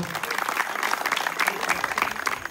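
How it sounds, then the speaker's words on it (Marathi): Audience clapping for a woman contestant at a Home Minister game-show event in Sabalwadi, a dense, steady round of applause from a close crowd lasting throughout. "या वहिनींसाठी एकदा जोरदार टाळ्या वाजवा."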